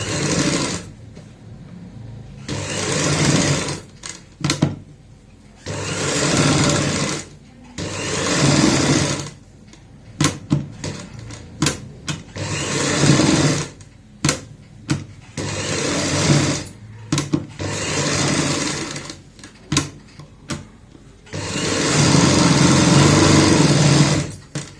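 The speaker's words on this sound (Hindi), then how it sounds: "अब हमें यहाँ पे सिलाई लगानी है वही 1 पैर चौड़ाई वाली" A sewing machine stitches a seam on a baby frock in repeated bursts of fast, close whirring, each lasting a second or two. Short pauses and small handling clicks come between the bursts.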